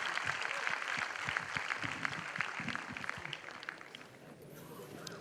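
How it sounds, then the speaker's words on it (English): An audience at a student seminar applauds a chartered accountant speaker, a dense patter of many hands clapping steadily, moderately near, then thinning toward the end. "So please give a round of applause for CA Rakesh Aggarwal"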